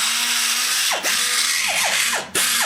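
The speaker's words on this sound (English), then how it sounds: "I use an iron cutter and just barely take the epoxy off of it" An iron cutter removing epoxy from a bolt hole on a Dart Pro One BBC 325 cylinder head: a loud, close, continuous high-speed whine that drops briefly in pitch several times as the cutter bites, with no talking.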